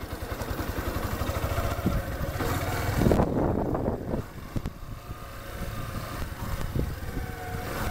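A Yamaha Factor 150 motorcycle engine runs steadily nearby, its low rumble shifting in pitch with some clatter, continuing without any talking.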